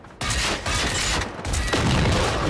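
A hostile robot fires at players in the video game Generation Zero, with loud, dense bursts of gunfire in sustained volleys and a brief pause between them.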